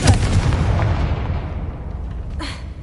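A Confringo fire spell blasting in Hogwarts Legacy, a loud booming burst at the start that rumbles and fades over a couple of seconds, followed by a brief sharp crackle near the end.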